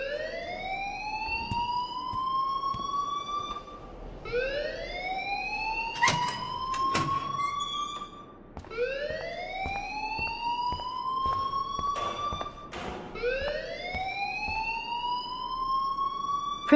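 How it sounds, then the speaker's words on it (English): Alarm in the video game Life Is Strange rings in loud repeated rising electronic whoops, each sweeping upward for about four seconds, with short sharp clicks and bursts between cycles. "please turn off that alarm since that's your job."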